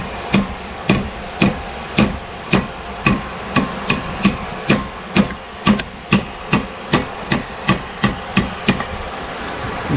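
A hammer taps a wood block to drive a new front wheel bearing into a Ford F350 hub, about twenty sharp, evenly spaced knocks ringing close and loud with no talk.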